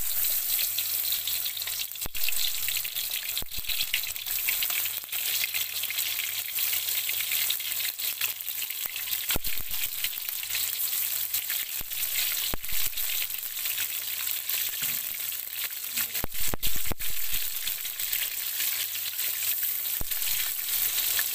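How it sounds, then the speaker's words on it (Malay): Prawns fry in hot oil for a prawn curry made without coconut milk, giving a steady, close hissing sizzle that runs throughout, broken by occasional clinks and stirring clatter. "Panaskan minyak dan kita goreng udang ya."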